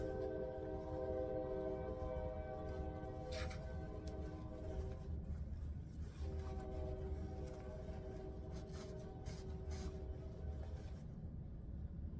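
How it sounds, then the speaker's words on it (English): A train rolls along nearby tracks, a steady loud rumble with sustained horn tones sounding throughout, rising and easing over about twelve seconds while a sewing session pauses indoors. "Time of day for the train."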